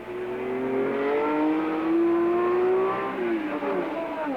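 Race cars roar around the circuit at the 1968 Le Mans 24 Hours, engines droning loudly with rising and falling pitch as several cars pass and shift gears, a sustained close engine howl.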